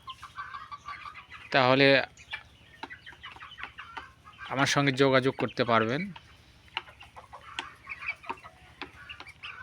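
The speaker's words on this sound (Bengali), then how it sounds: "এই মিশরি ফার্মি মুরগি" Egyptian Fayoumi chickens on a small farm let out two bursts of loud nearby clucking and cackling, with scattered softer clucks between them, while someone talks in the background.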